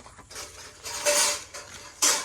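Metal kitchen utensils are taken out and handled, giving a few light clinks and scrapes of metal vessels in two brief bursts, fairly faint and close, with no talking.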